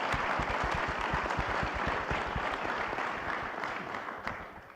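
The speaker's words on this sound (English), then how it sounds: "just a moment of applause and appreciation for the men and women of the FBI" A crowd applauds the men and women of the FBI at a briefing, with dense, even clapping that holds steady throughout and fades slightly toward the end.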